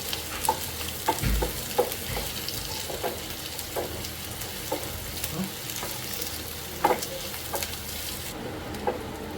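Green chilies and onions sauté in a pan for coconut-free Madurai thanni chutney, a continuous close sizzle broken by frequent spatula scrapes and taps, with no one talking.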